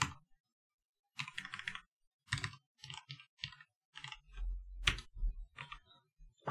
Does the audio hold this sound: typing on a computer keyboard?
yes